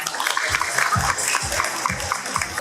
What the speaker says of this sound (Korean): 여러분 큰 박수로 맞이해 주시길 바랍니다